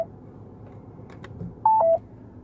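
A 2018 Nissan Altima's voice-command system gives a short electronic beep in two quick tones, sounding clearly over faint background noise.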